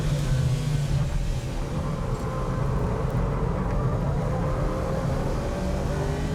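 A Nissan Skyline GT-R R34, a Mitsubishi Evo and a Subaru Impreza race on a track, their engines droning loudly and steadily with continuous road and wind noise from close by.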